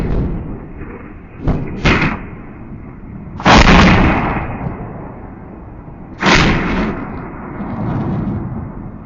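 Hezbollah missile bombardment striking the town of Kiryat Shmona: a few heavy booming blasts land at irregular intervals, each a loud, sharp thud with rumbling decay, over a constant low background roar.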